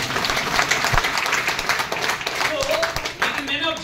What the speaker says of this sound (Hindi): एक बार आरसेम के लिए तालियां होनी चाहिए।